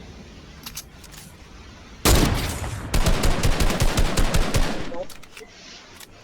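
In an arena match of a battle royale video game, a heavy gunshot is followed by a rapid burst of automatic gunfire, loud and close, with a few fainter shots around it and a voice speaking briefly.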